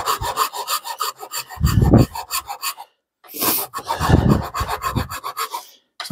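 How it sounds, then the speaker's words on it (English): A hand file rasps against cherry wood while shaping a dovetail saw handle, with close, steady back-and-forth strokes in two runs separated by a short pause and no talk. "This cherry does seem to respond to the file really well."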